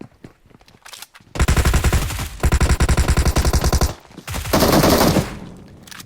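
Bursts of automatic gunfire in the video game PUBG Mobile, loud rapid rattling volleys separated by short pauses, with a few scattered single shots at the start and no talk.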